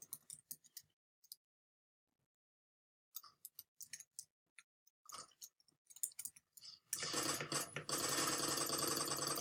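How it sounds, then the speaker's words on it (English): A machine gun in the online shooter Phantom Forces fires in short rattling bursts between pauses, then breaks into a long, loud, continuous stream of rapid shots. "This is my new favorite machine gun over the MG36 and M60 already."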